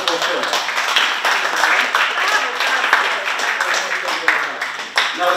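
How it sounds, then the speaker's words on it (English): Audience at a film event applauding, a dense steady patter of many hands clapping close by, continuing for several seconds with a voice speaking over it. "A big applause for you for producing this wonderful film."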